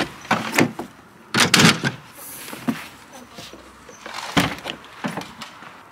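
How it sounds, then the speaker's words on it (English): Rear doors of a high-mileage VW T4 van, a former recovery vehicle, are worked open, giving a few sharp clunks and latch rattles in quick bursts, close by, with quiet pauses between. "Let me get the back doors open so you can see."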